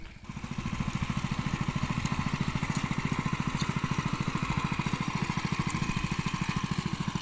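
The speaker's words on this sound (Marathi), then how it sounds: "इकडे जरा नांगरणी चालू आहे मशीनद्वारे" A small engine chugs in a fast, steady rhythm close by, a power tiller ploughing a field for sowing in Ratnagiri, Konkan, working continuously with no voices.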